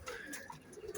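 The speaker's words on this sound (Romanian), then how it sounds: "Domnule Eugen, mai arătați-ne un porumbel dacă vreți" A pigeon coos close by in short soft throaty bursts, with faint rustling and a hint of voices in the background.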